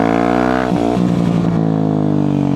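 Motorcycle engine revving hard and steadily, with the clutch worked to lift the front wheel into a wheelie; the pitch dips briefly and climbs again, close and loud throughout.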